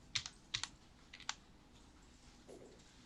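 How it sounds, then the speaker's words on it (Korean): Keys on a computer keyboard are pressed a few times in quick succession, several crisp close-up clicks in a quiet room, the bracket keys used to resize a brush in Photoshop. "닫기 대괄호, 열기 대괄호 키 눌러서 브러쉬 크기를"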